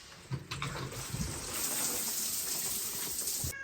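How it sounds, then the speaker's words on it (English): Water from a shower runs in a steady, continuous rush, close by and fairly loud, with a few brief knocks near the start and no talking. "I just got out of the shower"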